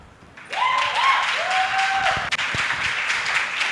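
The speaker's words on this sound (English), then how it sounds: "It's only your group members that are clapping" A room of people at an entrepreneurship development centre session breaks into sustained clapping that starts abruptly and stays fairly even and loud throughout, with a brief whistle-like tone rising over it early on.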